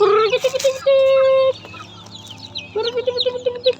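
Hatchling chicks and hens cluck and peep close by in a coop, with sustained high cheeping, sharp peeps and low clucks overlapping throughout, someone speaking briefly among them.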